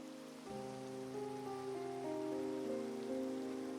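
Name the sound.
rain falling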